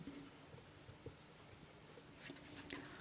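Pen or marker scratching across paper or a board during a Hindi class 12 maths lesson on differential equations, soft intermittent strokes with small taps, close and quiet with no talking.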